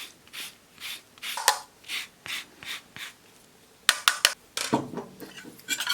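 Lemon zest is stirred into pastry cream for a lemon meringue flan, a whisk or spatula rubbing and scraping in the bowl in regular rhythmic strokes, close and fairly quiet, with brisker clattering scrapes toward the end.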